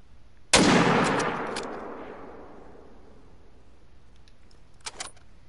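A single loud hunting-rifle shot in theHunter: Call of the Wild rings out and decays slowly over a couple of seconds, followed later by a few faint clicks.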